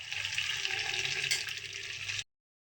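Hilsa fish pieces sizzle steadily in hot oil, the bright crackling hiss holding at an even level for a couple of seconds before cutting off abruptly into silence.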